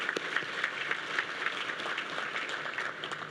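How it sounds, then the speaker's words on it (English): Applause for the Chamber at a State of the City address, a moderate, even patter of clapping from a seated audience that carries on steadily, fairly distant and without any voices. "I think the Chamber deserves a round of applause"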